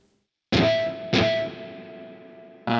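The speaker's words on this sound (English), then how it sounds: "Now let's add some reverb only to the guitar." Electric guitar played with reverb added, two or three struck chords ringing out, each sustaining and slowly decaying into a lingering wash before the next strike.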